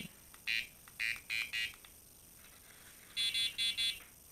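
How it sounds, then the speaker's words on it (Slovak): A fishing bite alarm receiver gives short electronic beeps, first four lower-pitched tones and then four higher ones, each about a quarter second long. They are evenly spaced, close and clean over quiet room noise. "teraz nám vlastne pípe iba prijímač a signalizátor je vypnutý"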